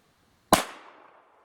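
A single magnum primer pops once, a sharp loud crack followed by a short decaying ring, heard alone against near silence.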